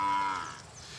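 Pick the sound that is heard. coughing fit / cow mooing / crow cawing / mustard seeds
cow mooing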